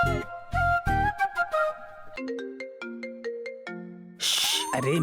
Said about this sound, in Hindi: अरे मैं नहीं हूँ यार, फोन है, उठा के बात कर ले।